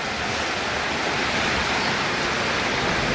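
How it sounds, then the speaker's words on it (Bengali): Rain falls steadily outdoors as a dense, even hiss that neither swells nor fades, with no voices or other distinct sounds on top. "এই তো বৃষ্টি হচ্ছে"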